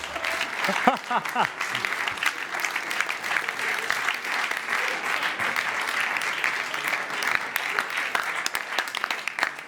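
A live event audience in London cheers, whoops and claps steadily for a guest called on stage, a dense, loud wall of applause and shouts lasting throughout.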